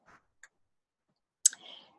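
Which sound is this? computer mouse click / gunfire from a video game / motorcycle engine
computer mouse click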